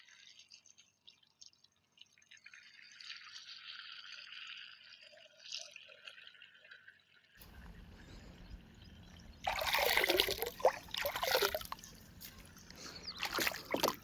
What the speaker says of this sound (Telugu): డ్రమ్లో నీళ్లు పట్టుకోవడానికి తీసుకోవడం కదా 2-in-1 కింద అయితే ఉపయో చూడండి ఇక్కడి నుంచే మనకి వాటర్ వస్తుంది.